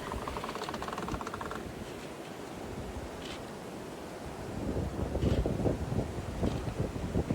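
Sailboat under sail in wind, with steady wind buffeting the microphone, the rush of water along the hull and waves growing louder toward the end, no talking.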